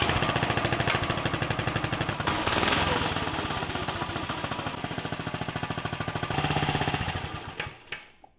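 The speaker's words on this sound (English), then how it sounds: "we'll start the engine and test our throttle," A bolt-together go-kart kit's small engine runs with a rapid, rough, loud putter that rises in a throttle blip around the third second and again near the end before cutting off.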